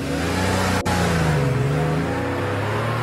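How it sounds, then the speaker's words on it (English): A car drives away from a curb, its mid-pitched engine humming steadily and rising briefly in pitch as it accelerates, fairly close and continuous with no talking. "The car drives off, leaving a perplexed dog at the curbside."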